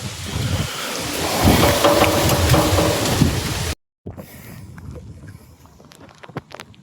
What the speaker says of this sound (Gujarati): અત્યારે વરસાદ આવવાની શરૂઆત થઈ ગઈ છે ધીમે ધીમે